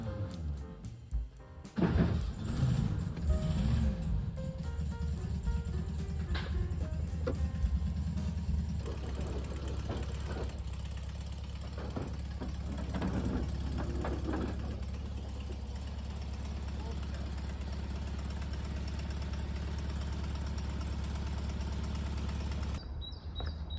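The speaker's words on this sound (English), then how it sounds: "So, this is 1964 Volkswagen Beetle. I just got this baby, as you saw already. It's in very good shape because the engine is running" A 1964 Volkswagen Beetle engine cranks and catches, then settles into a steady, loud, low idle that runs close by for the rest of the clip, with no talking.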